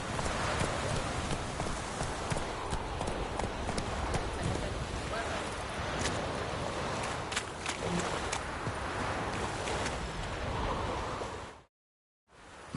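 Roach the horse gallops in The Witcher 3, hooves clip-clopping in a steady run over dense ambient noise and rustling, with some voices mixed in, before the sound cuts out briefly near the end.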